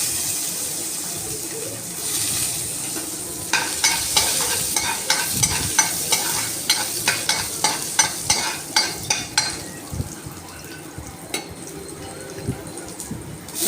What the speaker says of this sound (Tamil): நல்லா மிளகு பொரிஞ்சு வந்தோடனே 10 பல் பூண்டு போட்டுக்கோங்க.